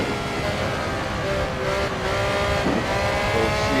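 Race car engine pulling hard on a flying lap around a circuit, a steady loud drone with rising harmonic lines, continuous and close throughout.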